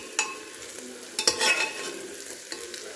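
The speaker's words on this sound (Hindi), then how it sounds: "ज़्यादा फ्राई नहीं करूँगी मैं प्याज को, मीडियम ही फ्राई करूँगी" Onions frying over medium heat in a pan for pulao, a soft crackling sizzle with a few brief stirring scrapes and clatters, close and steady with no voices.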